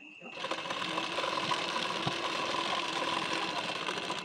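A sewing machine runs a continuous fast stitch along a blouse hook strip, close and steady with a fine mechanical whirr and rapid needle ticking lasting several seconds.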